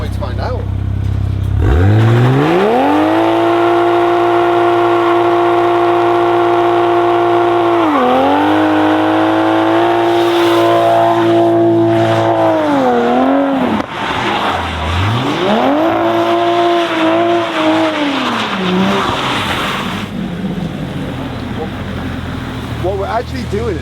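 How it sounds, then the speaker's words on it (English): A car at a paddock at Mondello, loud and close, with the engine revving hard through repeated rising and falling pitch sweeps and a sustained roar that suggests a burnout with spinning tyres, voices faint underneath. "It'll do a burnout, right? Should do a burnout."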